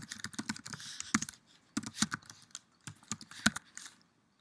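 Fingers type on a computer keyboard in uneven bursts of crisp, close key clicks, with brief pauses between runs and no voices.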